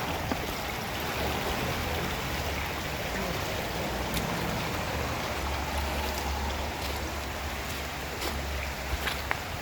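Water from a small stream and little waterfall rushes steadily with an even, broadband wash, heard alone at a moderate distance.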